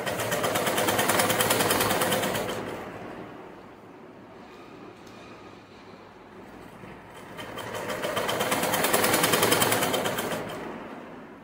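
A sewing machine runs in fast, steady whirring bursts while stitching fabric strips in a straight seam for a bottom hem design, loud and close, with a quieter pause in the middle before it speeds up again.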